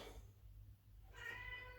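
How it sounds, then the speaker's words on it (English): A house cat meows in the background of a home kitchen during bread baking, faint and distant, with a low steady room hum underneath. "As you can hear, the cat is in the background."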